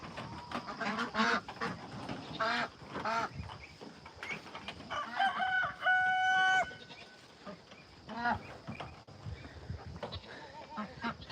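Several clucking chickens squawk and cackle close by at a farm coop, mixed with other farm birds and bleating goats, with a few short bursts of louder calls.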